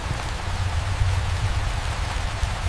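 Steady rain falls continuously, a dense even hiss with a low rumble beneath, moderately loud and unbroken, with no voices present.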